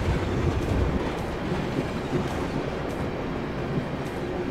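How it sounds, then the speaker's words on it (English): A cargo train in Train Simulator 2015 on the West Coast Main Line rolls past with a continuous rumble and faint clickety-clack of wheels, moderately loud, with no talking. "There's another cargo train"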